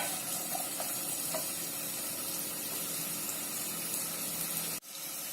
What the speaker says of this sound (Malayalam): ഇതിലേക്ക് ഗാർലിക് ഇഞ്ചി പേസ്റ്റ് ആഡ് ചെയ്ത് കൊടുക്കാം